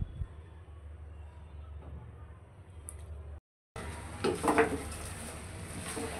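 A pot of beef and vegetable khichuri on the stove gets its lid set back on, with a soft metallic clatter of cookware amid steady low kitchen noise and a brief break in the sound.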